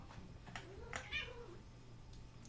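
A cat meows a few times, one drawn-out rising and falling call in the middle with shorter cries around it, fairly close and clear over low background noise.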